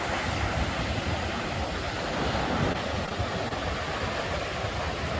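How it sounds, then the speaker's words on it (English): Strong wind roars across a Great Lakes shoreline as waves wash in, a loud, continuous broadband rush with gusty microphone buffeting and no voices. "It was a little windy that day."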